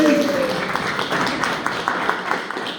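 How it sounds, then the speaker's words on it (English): Guests at Tony Jahner's 80th birthday skit give him a round of applause, a moderate patter of hand claps from a small gathering, with some talking blended in. "let's all give him a round of applause."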